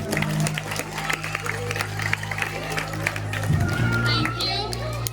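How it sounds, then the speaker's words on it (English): A school audience of children claps steadily for a speaker at an Independence Day celebration, scattered sharp claps over a murmur of young voices and a low background hum. "All of you, please clap for Aarti Madam."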